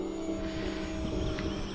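A fast RC plane flies overhead just after launch, its steady engine drone holding a constant pitch, with a few brief higher-pitched whines mixed in and no talking.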